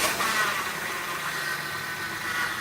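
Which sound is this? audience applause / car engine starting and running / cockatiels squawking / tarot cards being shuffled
car engine starting and running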